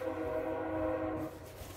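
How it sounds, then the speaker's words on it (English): A train passing on nearby tracks, its horn sounding as steady tones over a continuous rumble that carries through and then suddenly drops away partway through, leaving a quieter residual rumble. "Oh, sorry for the train noise in the background."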